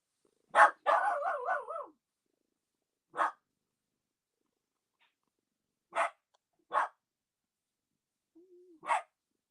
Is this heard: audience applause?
no